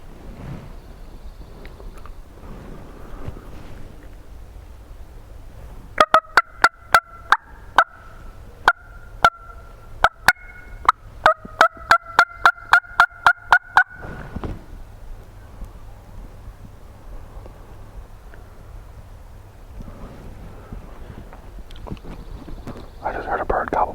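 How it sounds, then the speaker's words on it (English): A wild turkey gobbles in Wisconsin hunting country as a quick rattling burst of about eight seconds in the middle. Quiet whispering comes before and after. "I just heard a bird gobble, but he's a long ways away."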